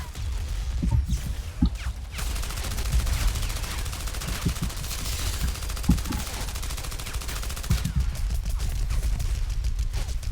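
Rapid automatic gunfire from a weapon in Battlefield Heroes rattles in sustained bursts, with sharper individual shots standing out over a dense, continuous clatter and no talking.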